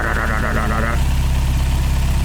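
A 1960s MGA 1600 Roadster engine idles steadily through a newly fitted budget exhaust, a loud, even low rumble filling the whole stretch, with a brief tonal whine at the start.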